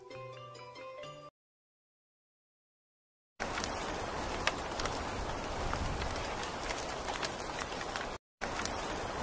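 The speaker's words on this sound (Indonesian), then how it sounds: "Suatu malam hujan deras" A brief musical sting cuts to silence, then a dense, steady roar of heavy rain with occasional sharp patters, ending with a short gap.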